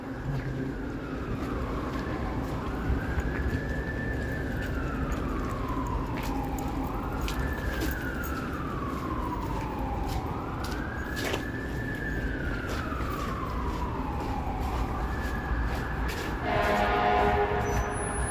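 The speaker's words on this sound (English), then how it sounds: "More sirens." A wailing siren rises and falls in slow sweeping cycles on a downtown Toronto street in heavy snow, steady and moderately distant over a constant urban hum.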